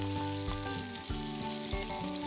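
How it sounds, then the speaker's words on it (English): Potato-starch-dusted oysters sizzle in hot sesame oil in a pan, a steady close frying hiss with a few soft taps and bumps as pieces settle, no voices. "Coat each oyster with potato starch. And then, place it into the pan."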